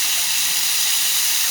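Mahi mahi fillet searing skin side down in a hot pan, giving a steady, loud, even hiss of sizzling oil that holds without break throughout.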